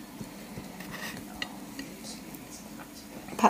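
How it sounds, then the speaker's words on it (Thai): Soft sizzling and the light scrape of a utensil as vegetables are stir-fried with pork in a pan, steady and quiet at close range, ending with a brief metallic clink. "มิวผัดผักให้กิน"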